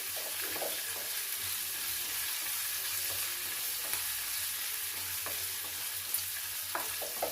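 Cut green chilies frying in a pan of okra chutney, a steady broadband sizzle that holds loud and even throughout with faint stirring clicks and scrapes, no voices.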